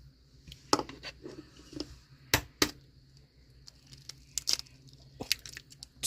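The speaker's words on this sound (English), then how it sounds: "I like to crack my eggs into my measuring cup" Farm fresh eggs cracked one after another into a measuring cup, producing several sharp, close taps and cracks with quiet pauses between them over a soft background hum.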